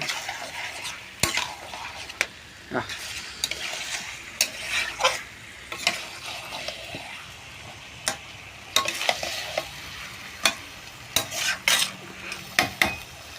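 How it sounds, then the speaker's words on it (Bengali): Chicken with ginger-garlic paste sautéed in a pan, a low frying hiss broken by frequent sharp clinks and scrapes of a spatula against the pan, irregular and close. "এবার আমাদের ভালো করে কষাতে হবে"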